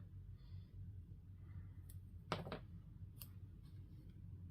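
A pair of scissors snips paper while a Halloween scrapbook album page is trimmed, giving one sharp, close cut in the middle and a couple of fainter clicks, over a low steady room hum.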